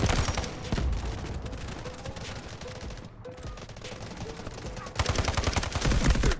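Rapid gunfire from the video game Delta Force, with dense bursts of automatic fire that run through most of the stretch, drop to a brief quiet gap, then return loud and sustained.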